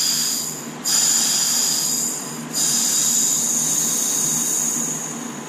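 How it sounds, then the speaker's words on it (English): A Harbor Freight McGraw 20 gallon air compressor runs with a loud, steady high-pitched whine and hum, its level stepping up briefly a couple of times as it works, with no talking. "the Harbor Freight McGraw air compressor, 20 gallon"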